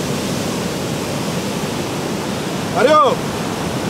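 Sea waves wash on a beach as a steady broadband roar that fills the clip, with a short shout from a voice near the end.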